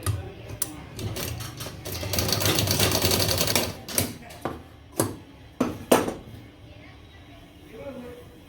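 Sewing machine stitching the edge of a Bombay cut blouse, a fast mechanical whirr for several seconds followed by a few separate bursts of stitching, while someone talks over it.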